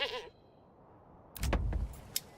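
Goats bleating from goat sheds in the Manor Lords game, a short high call at the start followed after a pause by a cluster of brief, louder bleats and clattering farm noise.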